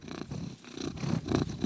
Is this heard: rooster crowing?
no